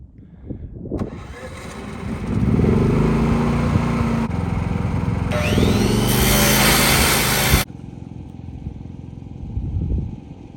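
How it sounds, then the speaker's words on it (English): A generator and concrete barrel mixer run at an outdoor winter job site, a steady loud engine drone with a rattling mechanical hum that starts, holds for several seconds, then drops to a quieter idle. "run the generator, run the mixer."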